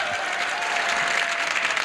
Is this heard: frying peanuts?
no